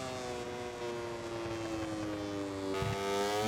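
Aprilia MotoGP racing motorcycle engine in the MotoGP 24 video game, a steady high-pitched whine with rich harmonics held smoothly on the throttle, pitch dipping slightly near the end and rising again, loud and continuous without talk.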